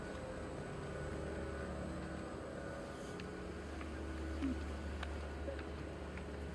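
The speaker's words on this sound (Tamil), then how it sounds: "guys இப்போ ஹெலிகாப்டர்ல போறோம்." Steady low engine drone with broadband rotor-like roar inside a helicopter cabin in flight over Abu Dhabi, filling the background throughout, constant and close, no talking.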